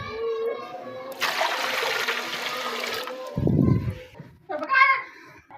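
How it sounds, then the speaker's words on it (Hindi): Water gushes into a cooking pot for jaggery rice in a Pakistani village kitchen, a rushing pour lasting about two seconds, with brief voices before and after it. "पानी हम डालेंगे 2 किलो के करीब।"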